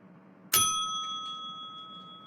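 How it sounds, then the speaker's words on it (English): A single bell strikes sharply for the end of lunch, a bright metallic ding with a long ringing tone that slowly fades, heard alone. "That's the bell for lunch over."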